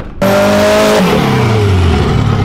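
An everyday street car with an engine of roughly 380 horsepower revs hard close by. A sudden loud roar climbs, then the pitch drops as the revs fall away and the engine keeps rumbling.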